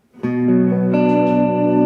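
A sustained electric guitar chord in a chillwave style rings out with a lush, spacious plate reverb and light overdrive-pedal grit, full and steady after a quick attack, no voices.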